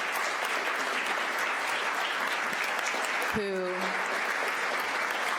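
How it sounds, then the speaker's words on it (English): Sustained applause fills a school board meeting, a dense and even wash of clapping from the gathered audience. A brief voice cuts in partway through. "a rounding applause of celebration"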